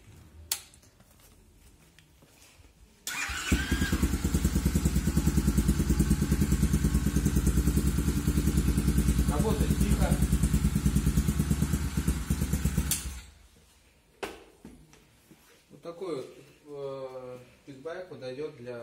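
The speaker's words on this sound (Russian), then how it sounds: "Сейчас заведем его." A 2020 Kayo Mini LF110EA kids' pit bike with a 110cc engine and automatic clutch starts up and runs loudly and steadily for about ten seconds, then shuts off, followed by someone speaking nearby.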